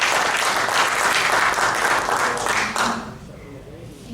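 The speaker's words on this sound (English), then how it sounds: "a huge round of applause on such an important subject" Hearty audience applause at a hospital emergency-services talk, loud and sustained, then fading out quickly near the end as the room settles.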